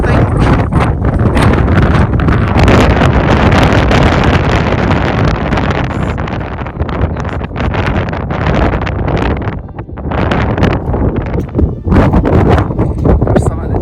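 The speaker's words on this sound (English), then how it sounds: "it's a little windy" Strong wind buffets the microphone on a mountain hike, a loud continuous roaring rush that fills the whole clip with gusty surges, and a voice speaks faintly under it.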